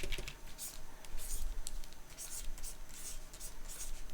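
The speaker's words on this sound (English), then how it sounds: "I'll write his name on it." A stylus scratches a name onto a digital drawing tablet in short, quiet bursts of strokes, heard up close.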